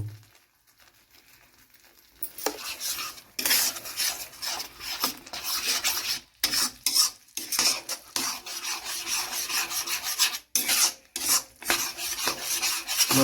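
A spoon stirs and scrapes through prawn curry in a pan after a teaspoon of dry red chili powder goes in for a Bengali chingri malai curry, with steady rasping strokes broken by brief pauses, close and fairly loud, with no talk.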